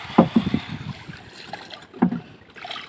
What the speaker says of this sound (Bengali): নৌকা নিয়ে ঘুরতেছি,